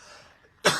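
A single harsh, loud cough bursts out after a dab hit, following a quiet stretch of faint breathy noise.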